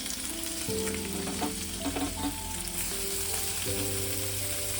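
Mourala fish, about 200 grams coated in salt and turmeric, sizzling in hot oil in a frying pan, a continuous crackling fry beneath background music.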